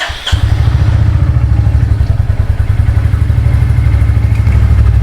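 A motorcycle engine starts and runs before a ride, catching after a brief crank and settling into a loud, close, even chugging idle that continues throughout with a faint mechanical clatter.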